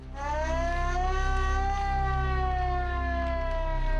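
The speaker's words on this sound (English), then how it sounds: "the community was startled by the shriek of fire sirens" Fire sirens wail in a 1940s archival recording, a steady, sustained rising-and-falling tone with rich harmonics that holds for several seconds over a low hum.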